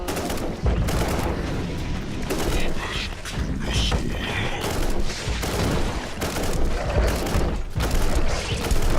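Dense bursts of automatic gunfire and rapid shots from the Warhammer 40000 Inquisitor Martyr video game, loud and continuous over nine seconds with mechanical clatter mixed in.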